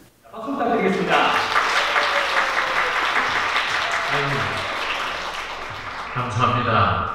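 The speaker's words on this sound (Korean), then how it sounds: "박수 부탁드리겠습니다." Applause at a wedding: a sustained crowd of clapping swells in quickly and holds steady for several seconds, loud and close, with voices talking over it near the end.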